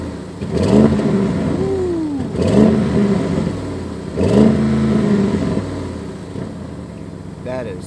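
An Audi RS6 Avant engine, held to about 3,000 rpm by a rev limiter, revs in three distinct rising blips a couple of seconds apart, each settling back to idle, loud and close.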